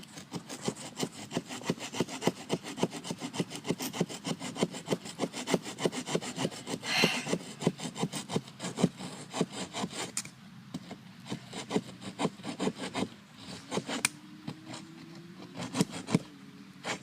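A GameWinner multitool saw cuts through wood in steady, rapid back-and-forth rasping strokes, close and continuous for most of the stretch, then thinning into a few sparser strokes near the end with no talking.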